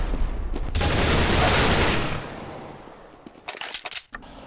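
Rapid gunfire in Counter-Strike: Global Offensive on the de_inferno map during a competitive match, a loud dense burst of shots lasting about two seconds, then fading, with a few sharp isolated shots near the end.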